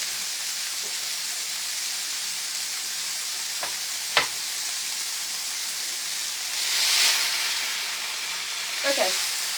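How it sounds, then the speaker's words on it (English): Meat browning in a hot pan gives an even, close sizzle across the whole stretch, broken by a couple of sharp utensil taps and a swell of hissing steam toward the end. "this side browned a lot faster. You can tell that my pan is getting hotter."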